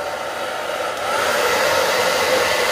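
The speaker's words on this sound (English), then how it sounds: "Okay, so now I'm gonna turn on my" A hair dryer runs steadily close by with a broad, even whoosh that swells slightly louder partway through, used to heat and tighten a shamanic drum skin.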